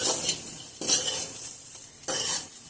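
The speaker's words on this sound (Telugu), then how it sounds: "ఇప్పుడు మనం సరిపడా ఉప్పు వేసుకొని శుభ్రంగా ఉప్పు కలిసేటట్టు బాగా కలుపుకుందాం" Spoon stirring salt through a potato 65-style potato fry mixture, scraping in three close, brisk strokes with brief pauses between them and a light sizzle underneath.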